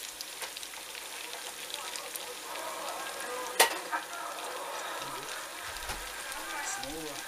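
Chopped tomatoes go into a hot pan and sizzle steadily, a soft continuous frying hiss with a couple of clunks and scrapes as they land and are stirred.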